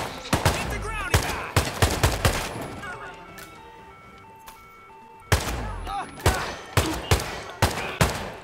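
Gunfire fills a Hitman 2 contract mission with rapid bursts of shots. A quieter lull in the middle carries faint tones, and then volleys of overlapping shots start again, loud and close, with voices crying out in between.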